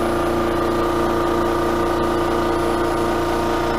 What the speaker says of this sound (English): That noise you hear is my compressor.